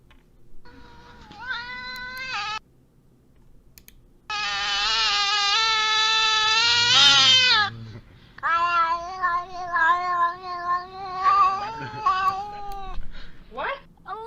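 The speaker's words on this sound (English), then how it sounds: "this cat is praying Allah for a God seed." Cat meowing and caterwauling in long, loud, drawn-out wails, one sustained howl in the middle followed by a run of shorter yowls.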